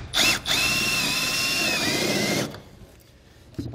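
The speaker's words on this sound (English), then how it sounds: "we'll take a step bit and create that opening" A power drill with a step bit whines steadily as it bores an opening through a pickup truck bed, running for about two and a half seconds after a brief start-stop, then winding down to quiet.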